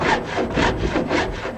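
Hand saw ripping lengthwise through a wooden beam for making a ladder, about three or four rhythmic rasping strokes back and forth, close and loud with no speech.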